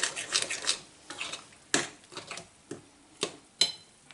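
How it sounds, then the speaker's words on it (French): Far Breton batter with raspberries whisked by hand in a bowl, a string of irregular clinking, scraping strokes close by, with short pauses between bursts. "on va pouvoir prendre le fouet"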